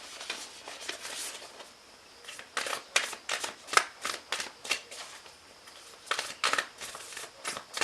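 Tarot cards being shuffled by hand, a close, soft series of riffling and flicking bursts in irregular rhythm, with brief pauses between handfuls.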